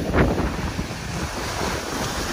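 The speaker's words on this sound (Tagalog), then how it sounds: "Lalaki ng alon." Large ocean waves break and surge onto a beach lined with geotubes for beach protection, a loud continuous roar of surf mixed with heavy wind buffeting the microphone, with one stronger crash near the start.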